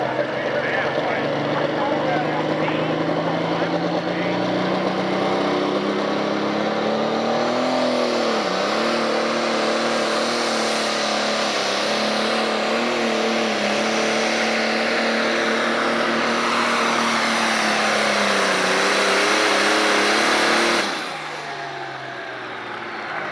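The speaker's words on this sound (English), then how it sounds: "Feeding the diesel fuel to that big John Deere motor." John Deere diesel pulling tractor at a 1996 Freeport, Illinois tractor pull, its engine roaring loud and sustained for about twenty seconds with shifting revs before dropping off abruptly, under a commentator's voice.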